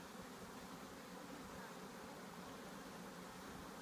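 A swarm of honey bees hums around a hive, a faint, steady buzzing drone that holds even throughout.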